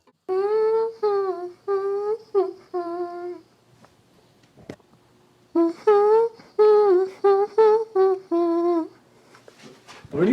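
A recorded voice hums a short melody in two phrases of brief held notes, close and clear with a pause between, used as a sample for a pop song.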